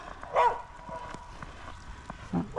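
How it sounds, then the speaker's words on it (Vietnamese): A dog barks on a snowy lakeside walk in Canada, two short bursts heard a couple of seconds apart, fairly near, over quiet outdoor background. "gặp được gặp con chó này nó sủa"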